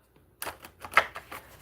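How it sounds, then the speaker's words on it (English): A deck of playing cards is shuffled, a quick run of crisp flutters and riffling snaps up close at moderate volume, without speech. "I'm gonna shuffle this deck"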